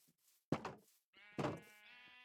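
Sheep in Minecraft bleat twice in quick succession, each a short wavering cry, close and clear over a quiet background.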